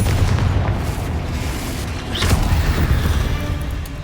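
Spell blasts in the video game Hogwarts Legacy, a dense, loud rumbling boom that swells again midway with a brief bright crackle.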